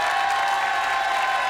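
A studio audience at a French hidden-camera television show claps loudly and continuously, a dense, even wash of applause filling the short moment.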